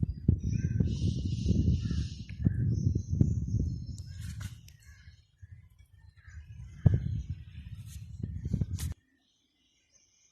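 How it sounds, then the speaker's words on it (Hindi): Crows and other birds call and caw around a home planting of Arabian date palms where they feed on the ripening fruit, with several sharp calls over a busy low background and voices in the distance, mostly outdoors and moderately near. "ये परिंदे खा रहे हैं जी इसको, जो दाना पकता है उसको खा लेते हैं परिंदे।"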